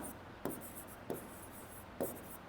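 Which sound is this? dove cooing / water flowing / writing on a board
writing on a board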